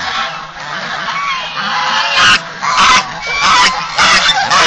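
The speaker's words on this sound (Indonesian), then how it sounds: "1000 ekor itik dan 250 ekor angsa" Geese honking loudly and continuously on a farm holding about 1000 ducks and 250 geese, a dense chorus of overlapping calls with sharper bursts rising near the end.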